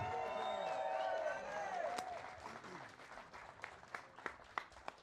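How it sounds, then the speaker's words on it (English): At a fight event, a crowd applauds the main event fighters, the dense clapping fading from full to scattered claps as the sound grows quieter. "let's have a huge round of applause for our main event warriors"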